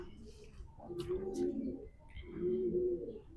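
Racing pigeons coo in low, throaty rolling phrases, two close bursts with a short gap, faint and near, with some soft background noise.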